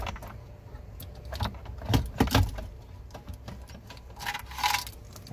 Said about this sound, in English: With the screws out, we'll pull this metal box out of the opening.